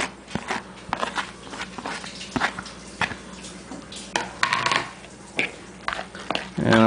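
Drained zucchini being stirred together in a mixing bowl for zucchini fritters, giving scattered clinks, taps and soft wet scraping in an irregular rhythm, close and moderately loud.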